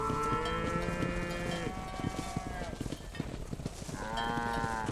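Cattle in a herd in the Red Dead Redemption video game, lowing in long, loud overlapping moos with rustling hoof and wind noise beneath, one bellow fading midway and another rising near the end.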